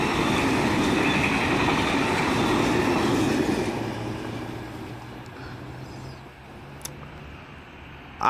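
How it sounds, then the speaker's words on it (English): A train passing near Mount Druitt Station, a loud rumbling roar of rail wagons and wheels that gradually recedes into a quieter, distant hum with a faint squeal. "enjoy the sights and sounds of trains passing through"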